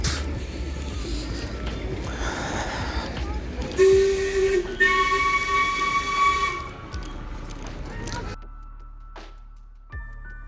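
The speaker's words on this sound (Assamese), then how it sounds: "এইফালেৰে আহে ট্ৰেইন" A train rumbles closer amid ambient noise, with a sustained horn-like whistle tone partway through, then the scene drops to near quiet.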